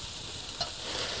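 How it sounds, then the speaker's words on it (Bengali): Potatoes dropped into a frying pan while cooking Bengali khichuri give a soft, steady sizzle and faint stirring, quiet and close, with one small clatter midway. "এবার এর মধ্যে দিয়ে দিচ্ছি আলু"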